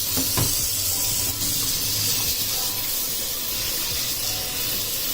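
A Mitsubishi Evo X headlight gets cleaned with rubbing alcohol and dish soap: a soft, continuous spraying and wiping hiss, fairly quiet and close, with no voices.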